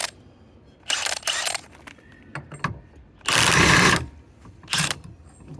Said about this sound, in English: Okay, let's try to loosen this.